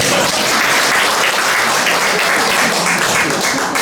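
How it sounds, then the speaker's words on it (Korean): Sustained applause from an audience at a book concert, dense and steady throughout without pause, loud and close, with no clear voices on top. "이럴 때 박수도 나오더라고요."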